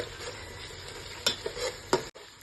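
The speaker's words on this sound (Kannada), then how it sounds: "ಈಗ ಶುಂಠಿ ಬೆಳ್ಳುಳ್ಳಿ ಪೇಸ್ಟ್ ಫ್ರೈ ಮಾಡಿ ಆಗಿದೆ" Ginger garlic paste frying in a pan for chicken biryani, with a soft steady sizzle broken by a few sharp scrapes and clacks of a spoon stirring, then a brief cut to silence near the end.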